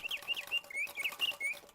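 A mechanical singing-bird automaton, its song produced by flutes and bellows, whistles a rapid series of bright, fluttering chirps and warbles, steady and moderately close with no voices.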